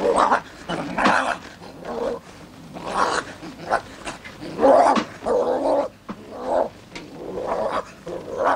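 Dog growling and snarling in a rising and falling series of throaty rumbles and snaps, close and fairly loud, with short gaps between bursts.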